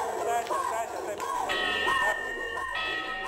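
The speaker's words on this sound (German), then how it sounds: "Das hört sich an wie eine Glocke. Kirchenglocken." Church bells ring with layered metallic tones and lingering overtones, somewhat distant, with a murmur of voices and background noise underneath.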